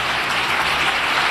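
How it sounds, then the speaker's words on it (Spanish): Applause from the public galleries of the Spanish Congress after a vote on a law for trans and LGTBI people: a brief, steady wash of many hands clapping, dense and moderately loud, heard alone. "Les recuerdo que desde las tribunas no está permitido aplaudir."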